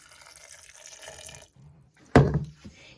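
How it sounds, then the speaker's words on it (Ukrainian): A short splash of water pours into a container, loud and close, after a moment of quiet rustling. "трошки додаємо водички"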